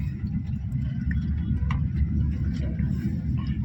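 A Maruti WagonR's engine hums low and steady from inside the cabin while the car drives and turns, a continuous near drone with faint light ticking above it.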